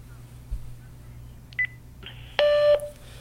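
Telephone keypad tones from a key being pressed while setting up a voicemail greeting; a couple of short tone bursts followed by a louder, longer dual-tone beep, heard alone with no talking.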